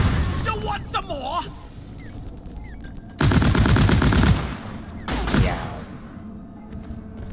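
Bursts of video game gunfire crackle in rapid automatic strings, with one heavy sustained volley midway and another shorter burst after it, alongside scattered game sound effects.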